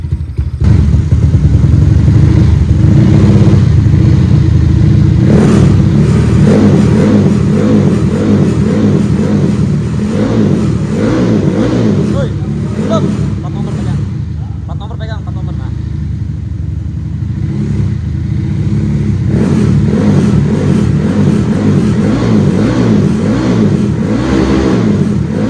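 A Yamaha Aerox scooter engine, bored and stroked to nearly 300cc, revs loudly up close, rising and falling in repeated throttle bursts with a rough, rattling tone.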